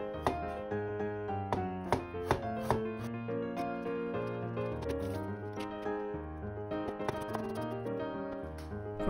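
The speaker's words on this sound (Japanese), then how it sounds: "そうしたらあとはみじん切りにしていくだけです。" A knife mincing peeled ginger finely on a cutting board, with quick, crisp, rhythmic taps in steady bursts, close and fairly quiet, with no voices.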